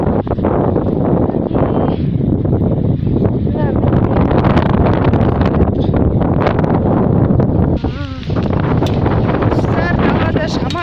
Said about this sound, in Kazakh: далада жаман жел болып тұр